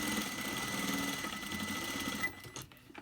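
A sewing machine stitches a fabric face mask with nose wire, a steady close mechanical whir running fast and even before stopping abruptly near the end.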